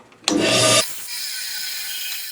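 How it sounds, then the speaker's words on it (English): A saw cuts straight into plywood or plexiglass in a short, loud burst of harsh rasping lasting about half a second, followed by a quieter steady whir as the blade spins down. "I'll just take a piece of plywood or a piece of plexiglass and I'll just cut straight into it and stop."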